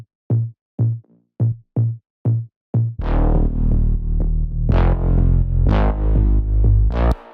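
Plucked bass in a deep house track: short, round, evenly spaced low notes repeat in a steady groove, then the full beat kicks in with chords and percussion layered over the driving bassline.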